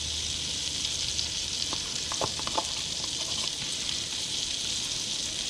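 Butter sizzling steadily in a hot pan with smoked salmon, a constant bright hiss with a few quick crackles and pops near the middle, nobody speaking.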